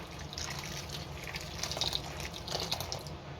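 Boiled, cooled water is poured into a drink of lemon juice and sweetener, making a soft, trickling, splashing pour with light drips, close and fairly quiet, with no voices.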